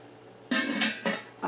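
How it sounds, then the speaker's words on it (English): Knife chopping fresh tomatoes on a cutting board for canning salsa, three sharp bursts of close chopping with short pauses between. "I'm going to go ahead and finish chopping my batch of tomatoes"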